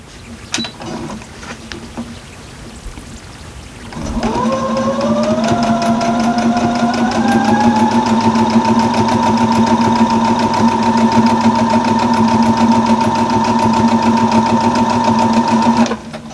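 After a few quiet seconds, a sewing machine starts up and hums steadily, stitching quilt squares for a barn star quilt along each side of the diagonal, with its motor whine rising as it gets up to speed.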